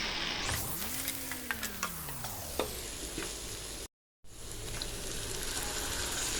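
Turmeric, chili and coriander powder with salt sizzle steadily in a hot pan for a Bengali bele fish bhuna, with close scraping stirs and small ticks over the constant frying hiss.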